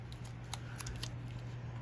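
Scissors snip through paper while someone cuts planner printables; a few soft, quick clips sound faintly over a steady low background hum.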